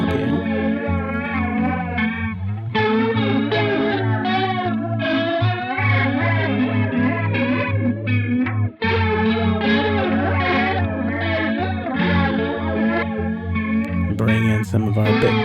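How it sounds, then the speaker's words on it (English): Guitar through an Alexander Syntax Error 2 pedal set for flanger-like sounds, with swirling, sweeping, distorted chords that sustain loudly and continuously with a brief dip midway, and no voice. "Now we can bring in more flanger-like sounds by turning this knob here."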